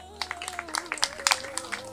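A classroom audience claps for a student, a short scattered burst of hand claps at moderate loudness over faint room hum.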